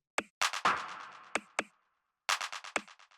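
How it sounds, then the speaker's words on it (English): A dark techno percussion loop with sharp, dry claps and hits, each followed by quick fluttering echoes and one longer, noisy tail. Short gaps of silence break up the pattern. "The next thing we have here is all the percussion,"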